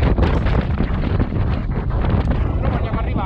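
Strong wind buffets the microphone on a mountain plateau at Campo Imperatore, a loud, continuous roaring rumble with gusty surges throughout.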